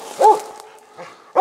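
A squirrel-hunting dog, a treeing hound out in the woods, gives two short loud barks with a whimpering yip between them, fairly close by.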